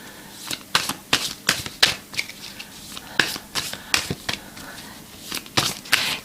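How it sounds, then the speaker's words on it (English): Cards are shuffled and riffled in irregular bursts of crisp, papery flicks, close by, with quiet gaps between them. "at the moment you're just going to hear a little bit of shuffling"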